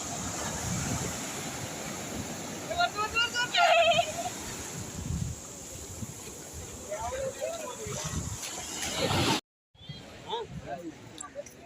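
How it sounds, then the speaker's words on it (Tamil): Big ocean waves break at a beach. The steady roar of surf and wind is loud and close, with people talking over it, and the sound cuts out briefly near the end. "பெரிய அலை வருது இப்போ"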